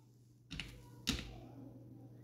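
Two isolated clacky key presses on a computer keyboard, about half a second apart, as a phone number is entered during online sign-up; quiet and close, with no talking.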